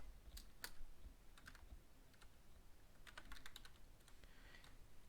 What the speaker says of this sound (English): I'm typing this in, otherwise I'm gonna forget it later in case it comes up